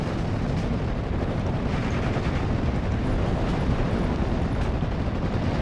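Artillery fire in the World War II strategy game Steel Division Normandy 44: a continuous, rumbling barrage of dull blasts and crackling impacts, dense and unbroken throughout, with no talking.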